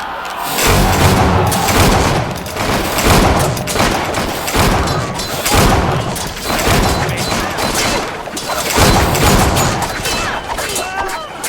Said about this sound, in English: So much gunfire.